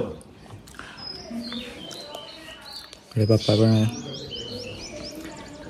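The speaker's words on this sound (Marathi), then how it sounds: "चारी साईडला फक्त पक्ष्यांची किलबिल ऐकायला येते," Small birds chirp and tweet steadily in the background, thin high calls repeating, while a person talks briefly nearby.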